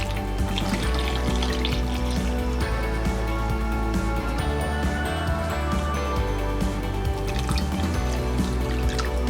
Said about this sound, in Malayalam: ഇതിലേക്ക് നമ്മൾ ഈ മാമ്പഴം വേവാനുള്ള വെള്ളം ഒഴിച്ചു കൊടുക്കാം